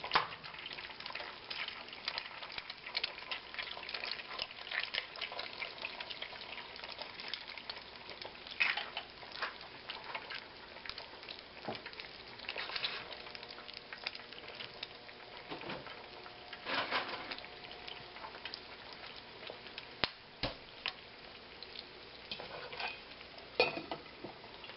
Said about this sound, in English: Now all I have to do is wait for the eggs to cook.